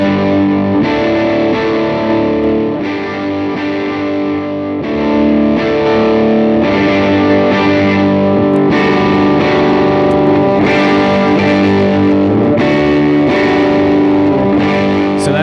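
Electric guitar played through an HX Stomp with the gain cranked into heavy distortion, spring reverb adding grit; loud, thick sustained chords that shift every couple of seconds, with no talking.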